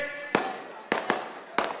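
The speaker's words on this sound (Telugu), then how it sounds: "క్రాకర్స్ ఎవరో కాలుస్తున్నారు" Three or four sharp firecracker bangs burst in quick, uneven succession, each crack echoing briefly.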